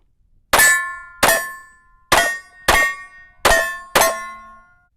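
Six sharp pistol shots from a Glock 43 fitted with a compensator, fired in pairs at steel targets, each a loud crack with a ringing metallic clang that decays before the next.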